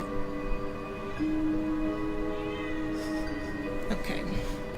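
A man imitates a Halloween cat, producing drawn-out wavering meows and yowls of a moderate level over a steady background hum.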